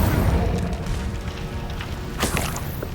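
Incendio fire spell cast in Hogwarts Legacy, a deep booming whoosh of flame that rumbles throughout, with a bright crackling burst near the end, loud and close.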